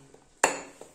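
A metal spoon clinks once, sharp and close, as turmeric is tipped into lentils in a pressure cooker in a home kitchen, followed by a fainter tap a moment later.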